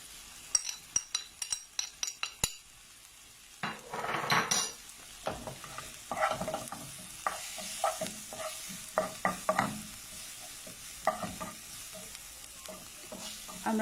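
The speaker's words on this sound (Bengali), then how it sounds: "আমরা তেলের সাথে এগুলো 2 মিনিটের মতো ভেজে নিব।" Salt and ground spices fry in oil under repeated sharp spoon clinks and scrapes against the pan, with a low, intermittent sizzle between the stirring strokes.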